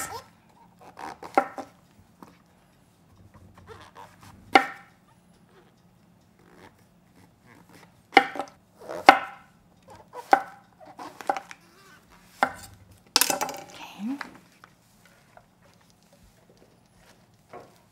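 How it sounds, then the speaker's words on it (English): Knife slicing fresh mushrooms on a cutting board after trimming off the root ends, giving sharp, close chopping taps in irregular bursts with quiet pauses between, no voices present. "Around the root, we gotta remove this, cut off, and slice this."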